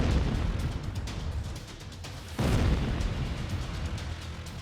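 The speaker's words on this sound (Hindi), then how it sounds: "ईरान के कई शहरों में धमाकों की आवाजें सुनी गई" Deep, rumbling booms and blasts from airstrikes on Iranian cities roll through the clip, with a heavier burst midway, sounding distant and continuous with no voices.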